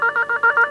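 A telephone ringing with a rapid warbling electronic trill in regular pulses, loud and close, with no voices over it.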